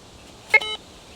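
The tone of a ROC XRS metal detector relayed to its control unit, a short electronic beep lasting about a quarter second in near silence.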